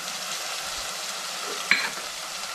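Tomatoes frying in a pan over low heat, a steady close sizzle with one brief scrape of a stirring spoon partway through.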